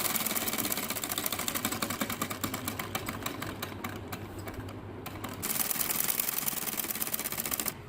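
A sewing machine stitches pieces of a ladies' trouser in rapid, even bursts of needle clatter, pausing briefly in the middle before running on steadily, close and fairly quiet.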